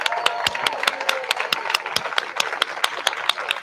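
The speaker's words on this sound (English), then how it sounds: "Let's do one more round of applause for Diane" A crowd at an anti-war rally outside the UN applauds steadily, with dense, even hand claps spread across a broad gathering, sustained and moderately loud throughout.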